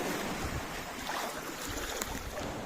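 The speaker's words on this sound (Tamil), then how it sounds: "தண்ணி ரிவர்ஸ் போகும்போது அலை எவ்வளோ இழுக்குது தெரியுமா?" Sea waves wash back across an Andaman beach, a steady broadband rush of surf and wind near the microphone with no voices.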